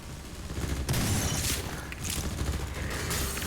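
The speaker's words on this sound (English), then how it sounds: "it looks like there's a bit of a firefight going on" Gunfire from a Half-Life 2 firefight, dense bursts of shots and sharp cracks overlapping in quick succession, loud and busy over a harsh rumbling background.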